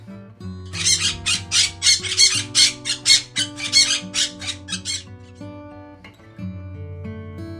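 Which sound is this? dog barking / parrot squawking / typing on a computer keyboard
parrot squawking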